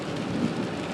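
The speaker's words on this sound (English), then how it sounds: "surprise, it's rainy today" Steady rain falls outdoors, a brief, even wash of dense hissing patter with no talking.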